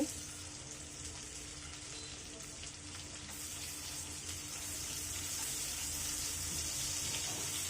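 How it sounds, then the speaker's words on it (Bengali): Chopped onion fries in a pan beside shrimp, giving a steady, soft, close hiss of sizzling that builds gently and runs alone with no talk. "কিছুটা নরম করে ভেজে নিব"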